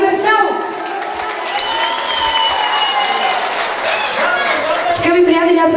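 Wedding guests applaud and cheer for the orchestra at a celebration, a steady wash of clapping and crowd noise filling the room while bright music tones ring through.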